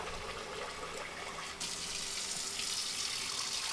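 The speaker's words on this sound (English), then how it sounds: "we're just going to put some cold water in and wash the rice" Cold tap water runs steadily into a sink while rice is washed, a continuous close hiss and splash that swells a little louder partway through, with no voices.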